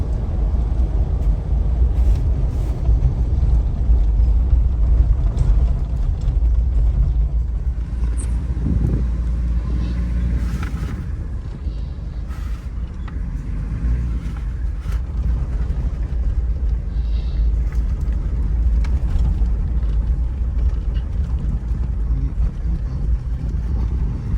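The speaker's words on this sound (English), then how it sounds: "So in the diesel, second gear is good enough to take off" A diesel Toyota Land Cruiser 105 Series pulls away in second gear, its engine a steady, loud low rumble that holds throughout with a slight swell as it accelerates, no voices present.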